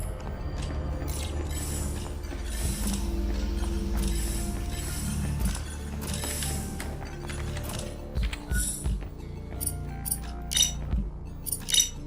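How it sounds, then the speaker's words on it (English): A suit cleaner machine in the sci-fi video game Aethus runs with a dense, steady mechanical whirr and clinking gear and ratchet noises. It is loud and close, and near the end it breaks into scattered metallic clanks. "There's the suit cleaner."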